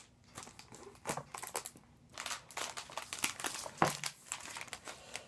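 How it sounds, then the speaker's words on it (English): A new Kindle Paperwhite is pulled from its plastic packaging, giving close, irregular crinkling and crackling bursts with short pauses between handling moves. "Let me see if I can get this out of the plastic."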